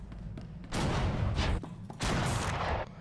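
Explosions in the video game Star Wars: The Old Republic come in two loud, rumbling bursts, each lasting over a second, over quieter game background sound.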